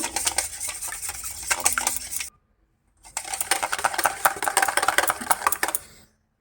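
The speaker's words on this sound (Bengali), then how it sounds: "ডিম আর তেলটাকে খুব ভালো করে ফেটিয়ে রেডি করে নিয়েছি" Eggs and oil whisked hard in a bowl for a jaggery cake batter, a fast, dense scraping clatter in two bursts with a short pause between, close and loud, no talk.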